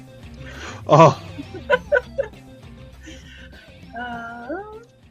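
Cat meowing indoors, a loud near meow followed by several shorter chirping calls and then a long drawn-out wavering meow, with faint background sound between.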